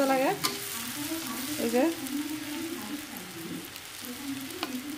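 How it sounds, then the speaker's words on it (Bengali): Eggplant fries in a pan with a soft, steady sizzle and a few stirring clinks, and a voice speaks briefly over it at the start. "বেগুনটা ভাজতে দিলাম আসলে"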